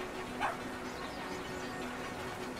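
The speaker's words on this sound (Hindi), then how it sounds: "जो छोटे बच्चे ने जो गेट खोल दिया है तो उससे वो कुत्ता खुल गया" A dog in the video game Brothers: A Tale of Two Sons gives a single short, faint bark over steady ambient game background noise after being let loose through an opened gate.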